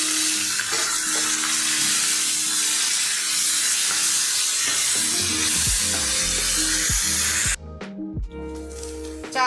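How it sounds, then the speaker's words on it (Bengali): Soaked, drained rice fries with potatoes in a pan for a fish-head ghonto: a steady, loud sizzle runs throughout, and clinks and scrapes from stirring sharpen near the end after a brief break. "চালটা ভাজা হয়ে গেছে।"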